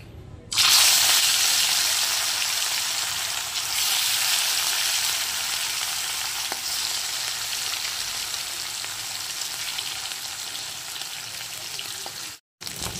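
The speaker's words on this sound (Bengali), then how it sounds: "এবার এক এক করে মাছ ছেড়ে দেবো।" Live rohu fish sizzling as it fries in hot oil: a loud, steady hiss that starts suddenly and holds evenly for the whole stretch, cutting out briefly near the end.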